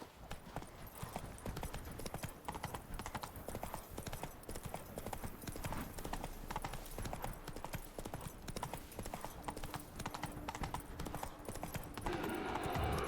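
Roach, Geralt's horse in The Witcher 3: Blood and Wine, gallops in a fast, steady clatter of hooves, close and prominent, with game ambience beneath and a slight swell near the end.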